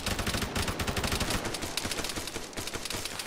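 Rapid rattling automatic gunfire in Arma during a ShackTac squad operation, steady bursts of shots close and loud throughout with no speech.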